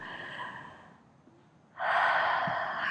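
A deep, conscious breath during a breathing exercise for stress: a softer exhale fades into near silence, then a loud, close, sustained inhale fills the rest.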